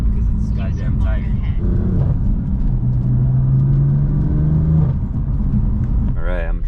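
A BMW F82 M4 rolling slowly up onto grass in a tight spot, a low steady engine rumble close by with a brief rise in revs, while people talk over it.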